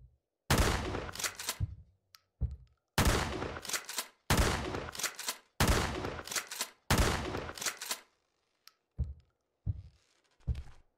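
Gunfire in a horror video game aimed at a doll: several long bursts of rapid, loud shots separated by brief pauses, ending in a few single, spaced shots, with no talk.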